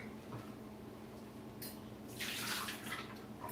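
Tap water runs steadily while soaked, foraged chokeberries are rinsed, swelling into a louder splashing rush midway through before easing slightly, with no voices.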